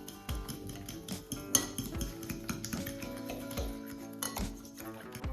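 Egg stirred with vanilla sugar and regular sugar in a bowl for pancake batter, a steady run of close scraping and clinking as the utensil knocks against the bowl, with no voices.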